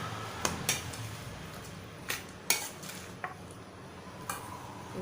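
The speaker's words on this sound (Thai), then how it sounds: "คนให้เข้ากันนะคะ" Rice noodles mixed with tuna and herbs being stirred in a bowl, with a handful of sharp utensil clinks and taps at irregular intervals over a quiet background, no speech.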